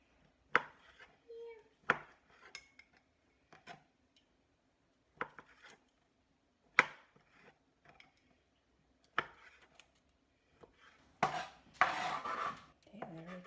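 Garlic being chopped on a cutting board for a farm-fresh skillet, a series of sharp, separate knife strikes with pauses between them, turning into a quicker burst of rapid chopping near the end. No one speaks.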